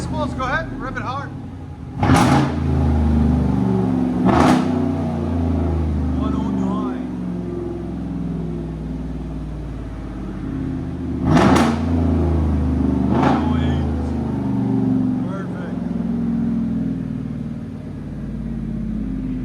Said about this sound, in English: Go ahead, rev it hard.